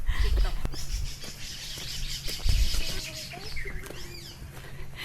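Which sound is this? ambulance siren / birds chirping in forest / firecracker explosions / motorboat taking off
birds chirping in forest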